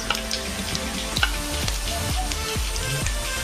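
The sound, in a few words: onion paste frying and sizzling in a pan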